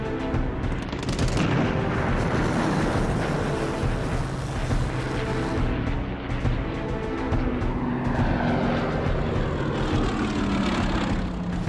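Loud, continuous roar of RAF fighters, propeller-driven planes scrambling, with engine drone swelling and shifting pitch across the whole stretch and no voices.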